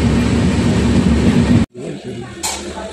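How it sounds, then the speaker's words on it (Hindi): A train rumbles steadily at Izzat Nagar railway station in Bareilly, a loud continuous roar that cuts off abruptly, followed by quieter ambient rattling and a brief hiss. "ये है बरेली का इज्जत नगर रेलवे स्टेशन"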